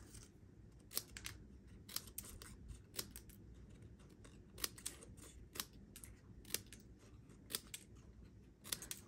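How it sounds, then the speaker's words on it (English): Scissors snip through pieces of paper while cutting stamped Marigold Moments papercraft pieces at an angle, a quiet, steady series of short crisp cuts in close succession with no talking. "take your scissors and you want to cut all the pieces at an angle"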